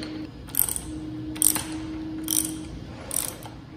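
Ratchet wrench clicking in four short bursts, working loose a nut secured with Loctite on a KTM 690 motorcycle during fairing installation; close and fairly loud over a steady low hum.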